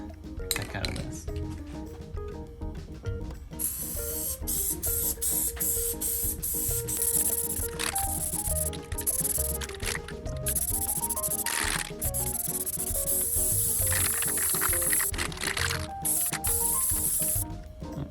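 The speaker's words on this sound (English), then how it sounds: "then spray the heck out of this." Spray adhesive hisses from an aerosol can onto surfaces during a 2021 Ford F150 Tremor truck camper build, in repeated bright bursts over steady background music.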